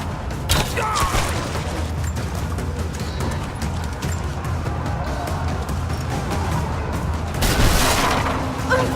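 A grenade goes off in the action game Rise of the Tomb Raider: low booms and rumbling blasts, with a louder burst near the end, over steady combat noise.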